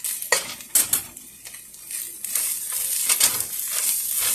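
Seasoned sausage sizzles in a pot of fragrant tomato paste while a spoon stirs and scrapes, with a few sharp utensil clacks against the pot early on, then a steady frying hiss.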